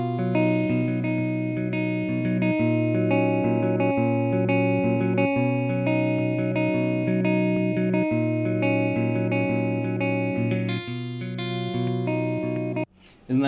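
A distorted electric guitar through an Ableton amp and cabinet simulation plays sustained chords with a smoothed, evened-out tone, loud and continuous, cutting off abruptly near the end.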